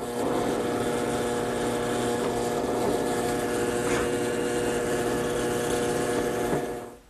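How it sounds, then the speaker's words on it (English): A drill press cuts mortises into a wooden table leg, a loud, steady motor drone with a constant pitch that runs unbroken before winding down at the end. "Now this piece is simply there so it won't twist as I mortise it out"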